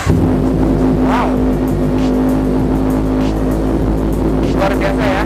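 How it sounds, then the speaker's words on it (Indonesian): A motorcycle fitted with an SC Project aftermarket exhaust revs loudly and close by. A deep steady idle is punctuated by several sharp throttle blips, with no talking. "Jadi ini adalah karakternya dari SC Project, pastinya suaranya bulat tapi menggelegar."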